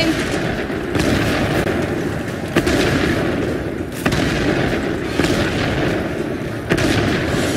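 Repeated artillery-style booms and gunfire bursts from the video game DeadHeaven, an incoming barrel strike amid a dense, continuous battle din with several sharp impacts spread across the clip.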